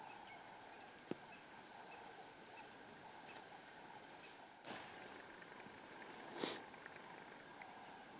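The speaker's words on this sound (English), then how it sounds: "A nice big flock of guinea fowls here." A large flock of wild guinea fowl, adults and young together, calls in the bush of the Manyeleti reserve. Faint, distant chattering cries are scattered over a quiet outdoor background, with a few louder bursts.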